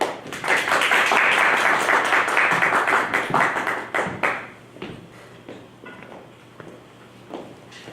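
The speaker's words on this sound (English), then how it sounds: "let's give a round of applause for her" An audience at a TEDx event in Newark, New Jersey claps in a dense burst that thins out and fades to scattered claps after about four seconds.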